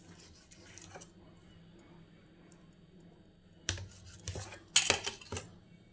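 A knife slices a rolled vegetable kachori dough into small pieces; after a quiet stretch with faint handling noises, several crisp taps of the blade on the board come close together near the end.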